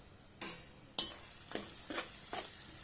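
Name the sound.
sautéing tomatoes in oil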